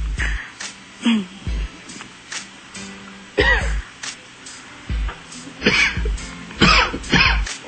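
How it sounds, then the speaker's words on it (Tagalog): Several short, harsh coughs and throat-clearing bursts come in separate fits with pauses between, close to the listener, with some voice sounds mixed in. "Dry cough? Dry cough."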